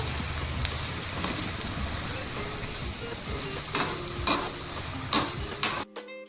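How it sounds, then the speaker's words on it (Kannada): Two onions frying in a pan for avalakki uppittu, with a steady crackling sizzle and a few sharp stirring scrapes near the end, heard up close with no talk. "ಎರಡು ಈರುಳ್ಳಿ ಅಷ್ಟು ಹಾಕೋಬೇಕು ಇದನ್ನು ಚೆನ್ನಾಗಿ ಫ್ರೈ ಮಾಡ್ಕೊಬೇಕು"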